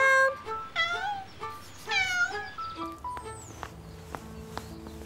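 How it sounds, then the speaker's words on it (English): A cat, a pet kitty that has climbed high up somewhere, meows several times in a row, fairly close and clear, with light footsteps and rustling between the calls and then a few sharp clicks. "Come on, Kitty. Come on down."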